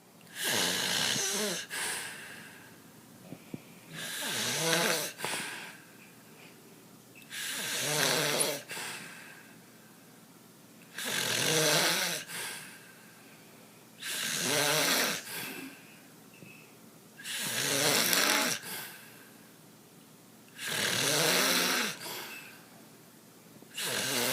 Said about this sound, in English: If you're wondering what the heavy breathing is in the background, just watch.